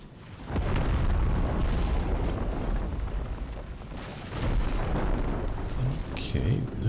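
Cannon fire in an Empire: Total War battle, with heavy booms rumbling over dense battlefield noise while someone talks.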